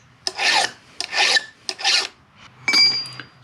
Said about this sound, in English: you're trying to file away just the cutter